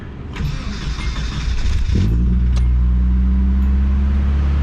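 An engine cranks and fires up, then settles into a loud, deep, throaty idle with a steady low rumble.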